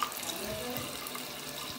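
Water runs steadily from a tap into a sink, a continuous close hiss and splash that stops abruptly at the end.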